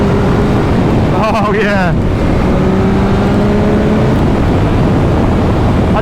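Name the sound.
Yamaha MT motorcycle engine at full throttle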